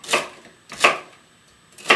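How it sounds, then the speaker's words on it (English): Celery is chopped on a cutting board with a knife: three crisp, separate chops spaced evenly, each a close, dry crunch with quiet pauses between. "Cut off the bad ends of the celery and chop them up"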